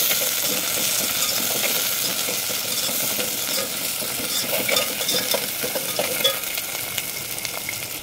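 Soya biryani mixture sizzles steadily in a pan as mint and coriander are stirred in, with continuous frying hiss and scraping stirs throughout, loud and close, no voices.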